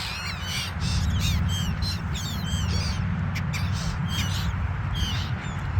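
Seagulls calling over Corniche Beach, a flurry of repeated harsh caws and squawks from several birds, fairly close, over a constant low rumble of wind or surf.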